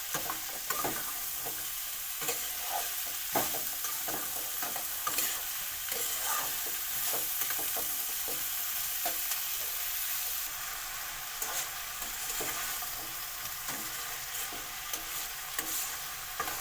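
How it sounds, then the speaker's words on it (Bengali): Pumpkin frying in a pan sizzles steadily while a utensil stirs it, its scrapes and knocks repeating irregularly over the hiss, close by and without speech. "এবার কুমড়োটা এবার ভালো করে নেড়ে চেড়ে"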